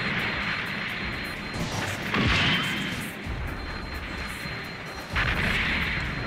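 A GM cannon fires in the mech combat game Gundam Online, heavy booming blasts with a loud impact near the middle and another near the end over a continuous rumble of battle noise.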